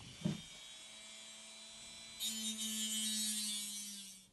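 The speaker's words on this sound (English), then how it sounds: "I'm going to start with my motor tool and grind off as much as I can without damaging the rest of the Pilot." A rotary motor tool grinds plastic off the pilot of an HO scale Athearn SD40-2 model locomotive. A faint click comes first, then a thin steady whine rises into a louder buzzing grind that holds before trailing off.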